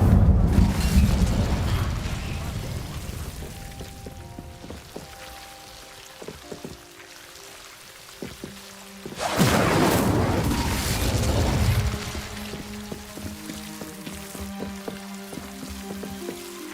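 Incendio fire spell cast in Hogwarts Legacy: a loud whooshing, crackling burst of flame at the start and another near nine seconds, fading between, with clinking mechanical game sounds underneath.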